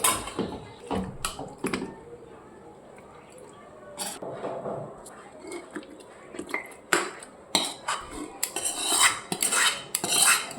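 Cooked mutton is ladled into a pressure cooker, with frequent metallic clatter and scraping of a spoon against pots, irregular knocks and clinks building toward the end, close and fairly loud.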